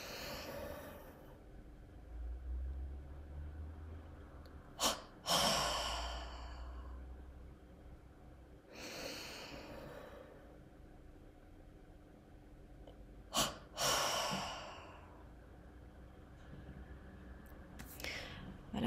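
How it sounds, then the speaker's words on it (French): Slow, deep, conscious breaths during a guided breathing exercise, close and soft, with long airy inhales and exhales separated by quiet holds of several seconds. "Donc on va faire une inspire en conscience"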